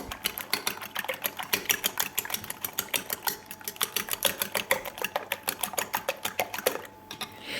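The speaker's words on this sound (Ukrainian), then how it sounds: "Збиваємо яйця." Eggs whisked in a bowl for an omelette, a quick steady rhythmic clicking and tapping of the whisk close by, with no talking.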